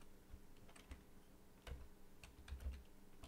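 Scattered keystrokes on a computer keyboard while entering code, a handful of irregular clicks with pauses between them, close and moderately quiet with no talking.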